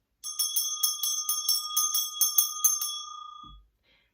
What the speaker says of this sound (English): We're going to ring our bell.